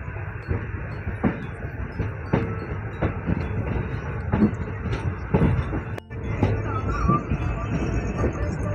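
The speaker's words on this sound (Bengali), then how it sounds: "আমাদের ট্রেন এখন সুজনিপাড়া রেলওয়ে স্টেশন থেকে ডিপারচার নিচ্ছে," The Teesta Torsa Express pulls out of Sujanipara railway station at night, its wheels rattling steadily with a rhythmic clack over a constant low rumble of the moving carriages.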